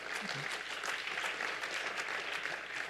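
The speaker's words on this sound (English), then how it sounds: "let's give the Lord another hand clap of praise" A church congregation claps in praise at a Missionary Baptist service, a steady wash of many hands at moderate level with no talk over it.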